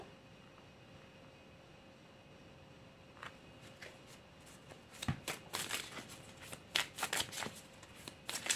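Tarot cards shuffled and dealt at close range, starting quietly and building into a dense run of crisp, rapid card flicks and slaps over the second half, with no voices.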